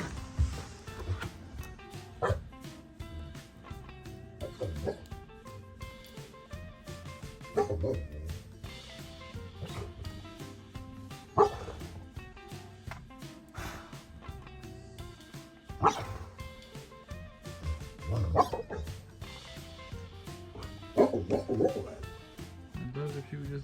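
A dog barks at a moose in Alaska, the barks scattered and fairly close over steady outdoor noise, with a person talking at times.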